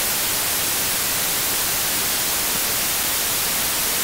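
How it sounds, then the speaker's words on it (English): A continuous white noise track plays from music production software, a flat, even hiss held at a constant loud level throughout, with no voices or other sounds. "So we just duplicate the track, that same white noise, right?"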